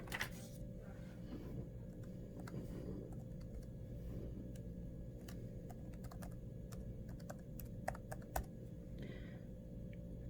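An email address typed on a computer keyboard, a brisk run of sharp close key clicks over a steady low hum, with a few louder taps toward the end.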